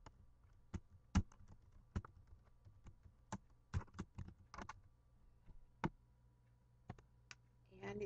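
Quiet, irregular keystrokes on a computer keyboard as a phrase goes into a search bar, with sharp separate clicks spaced across eight seconds, some in quick pairs and clusters, over a faint background hum.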